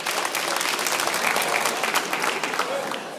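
Audience applause at a French stand-up comedy show, a dense burst of clapping with cheering mixed in, fairly loud and continuous throughout.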